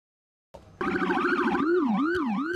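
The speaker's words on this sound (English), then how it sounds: "We have purchased for our new vehicles a siren that not only will be heard but can be felt" After a brief click and short tone, a loud low-frequency howler emergency vehicle siren starts wailing, sweeping up and down in a fast, repeating howl.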